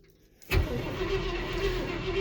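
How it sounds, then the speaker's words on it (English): A 1974 Ford F-250 Highboy 4x4 truck engine on a cold January start: quiet, then the engine abruptly kicks in and settles into a rough, rumbling run close by. "Oh, it turns over."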